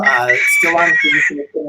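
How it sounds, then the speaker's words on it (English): A rooster crows in a long wavering call, mixed in with a person talking over it, ending in a few short choppy notes. "I think I heard a rooster there."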